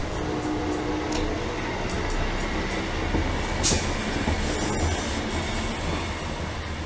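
Train rolling along rails with steady broadband rumble and faint clatter, continuous and fairly near, with no talking over it.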